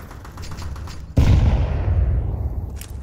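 Pistol gunfire in Counter-Strike 2 during a Complexity vs Vitality match on Inferno at the PGL CS2 Major Copenhagen, a single loud close shot whose rumble trails off, over steady background game noise.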